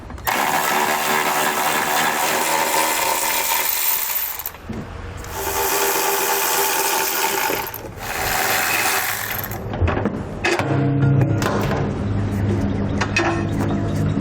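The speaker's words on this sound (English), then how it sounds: "So you want to grab an 18mm socket and pull all the bolts out." An 18mm socket on a ratchet backs out tow hook bolts from the frame rail of a 2018 Nissan Pathfinder, a steady loud run of rapid ratcheting clicks with brief pauses, continuing alone without speech.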